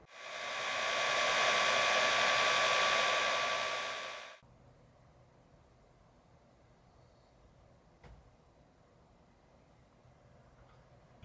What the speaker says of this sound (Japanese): 慎重にカットしてドライヤーで伸ばす作業